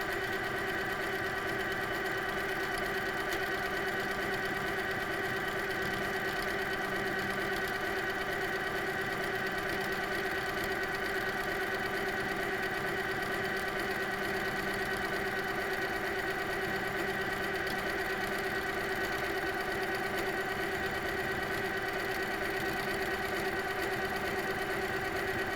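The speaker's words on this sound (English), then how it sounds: "congratulations on your HQ Sweet 16 sit-down quilting machine." A Handi Quilter HQ Sweet Sixteen sit-down quilting machine running steadily, a continuous even motor whir with a constant hum and no pauses or voices.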